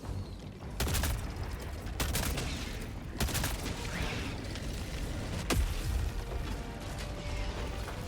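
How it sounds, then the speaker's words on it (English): A rapid series of sharp blasts and booming bursts from a Helldivers 2 hellbomb explosion, loud and close, with crackling debris and mechanical rattles between the hits. "You can hear the explosion sound."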